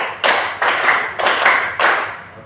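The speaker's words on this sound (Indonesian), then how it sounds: "coba kasih tepuk 1, tepuk 2, tepuk 3, tepuk 4" Four loud, evenly spaced bursts of a school class clapping in rhythm, each a short flurry of many claps together.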